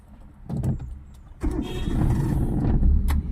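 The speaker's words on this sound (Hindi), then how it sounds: "इंजन स्टार्ट करो क्लच दबा के" A car engine cranks and catches in a parking area during a driving lesson, with a short clunk first, then a brief starter whir and a steady idle rumble rising close by.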